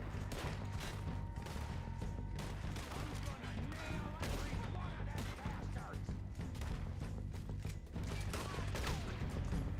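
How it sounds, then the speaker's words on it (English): Gunfire in Red Dead Redemption 2, repeated sharp shots and bursts spread through a dense, busy stretch of combat, with booming impacts underneath. "So shooting at some guy, they would just die pretty much."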